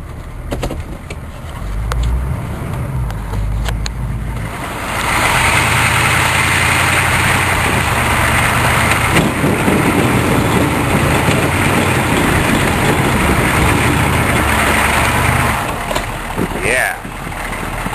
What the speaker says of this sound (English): Get my neighbor's snowblower and plow out my dumpster.